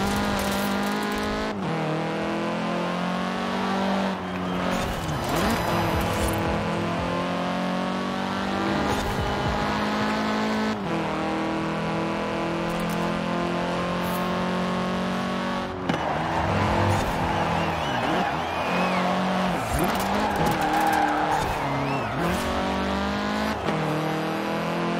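Car in a Forza racing game drifting through corners, loud revving engine notes rising and falling across several gear changes with bursts of tire squeal, close and continuous with no talk.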